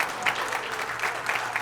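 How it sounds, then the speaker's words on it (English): Audience at a shooting championship gives a steady round of applause, a dense, even patter of clapping from a mid-sized crowd filling the whole moment. "Great crowd. Gives him a hand."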